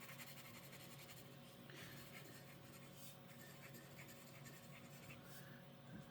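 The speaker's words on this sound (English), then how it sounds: "I always like to test the inks out on copy paper just in case that's all you have" A fountain pen loaded with Birmingham Pen Company Weeping Willow ink scratches steadily across copy paper, a faint continuous scritching with small stroke bursts over a low background hum.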